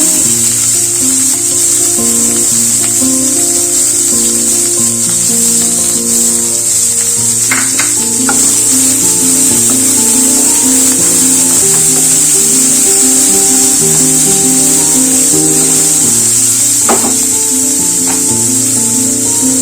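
Cut onions and curry leaves sizzle in a pan while beetroot poriyal is cooked, a steady frying hiss running beneath continuous background music.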